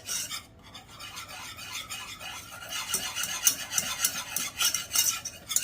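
A roux of flour and grease is stirred for enchiladas, the spoon giving a continuous close scraping, rasping swirl that grows busier and louder toward the end, with no talk.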